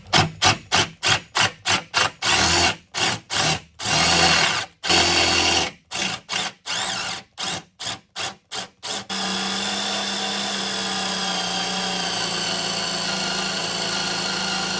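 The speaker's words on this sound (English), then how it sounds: "then I'll commence my drilling" A power drill bores into a lubricated Volkswagen Beetle door hinge pin in rapid stop-start bursts, then runs steadily without pause; loud and close.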